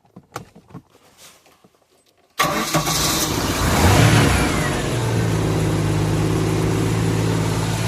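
A stalling boat engine catches and roars into loud, sustained revving under throttle, after a quiet stretch of faint knocks, then settles into a steady high drone.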